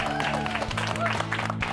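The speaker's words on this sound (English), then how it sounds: "let's give a big round of applause to the volunteers that helped out today." A crowd gives a round of applause for volunteers after a fitness event, brief scattered clapping mixed with voices and background music.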